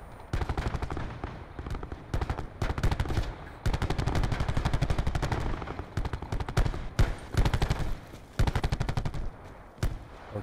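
Rapid automatic gunfire in Call of Duty strikes sandbags, loud bursts with short gaps throughout and a few sharp single shots near the end.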